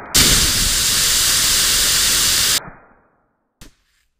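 Small hobby rocket motor firing on a static thrust test after a nozzle failure, a loud steady roaring hiss lasting about two and a half seconds before tailing off, followed by a brief faint click.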